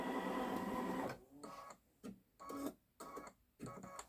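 A Babylock Solaris Vision embroidery machine stitching an edge-to-edge quilting pattern, a steady close mechanical whir that breaks into short start-stop runs with brief pauses between.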